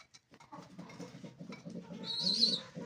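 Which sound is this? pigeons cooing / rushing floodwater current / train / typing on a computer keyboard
pigeons cooing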